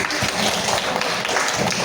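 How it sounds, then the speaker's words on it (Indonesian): A class of students applauding together, a dense, continuous patter of many hands clapping at close range, steady for the whole stretch with no pauses. "Kita beri juga tepuk tangan."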